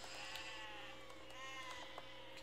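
Sheep bleating in the physics-building game Besiege, wavering tonal calls from several animals overlapping steadily against a dense, constant background of game noise.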